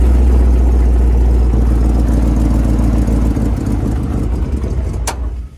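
A 1985 Chevrolet K10 truck with an LS engine swap idles nearby, a steady low rumble that roughens and sags toward the end, closing with a sharp click.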